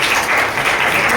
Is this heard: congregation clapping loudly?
yes